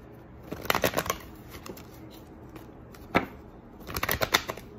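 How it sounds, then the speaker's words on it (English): Tarot cards are shuffled in two quick riffling bursts separated by a pause, with a single sharp snap in between, close and fairly quiet. "I'm going to take these cards and shuffle them"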